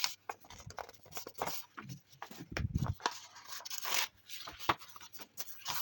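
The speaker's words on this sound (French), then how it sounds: "On ferme les enveloppes." Paper envelopes being closed and pressed shut make soft, close rustles and scrapes in short irregular bursts, quiet overall, with a little faint talk between handling sounds.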